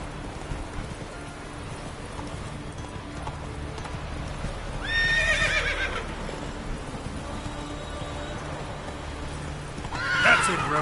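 Roach, a horse in a video game, clip-clops steadily at a gallop with two sharp neighs, one midway and one near the end, over a low constant rumble and faint background noise.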